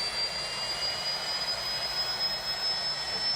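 Jet plane engine roar, a steady, loud, broadband rushing drone that holds constant throughout with no voices.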